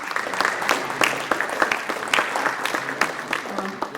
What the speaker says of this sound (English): let's have a round of applause for ourselves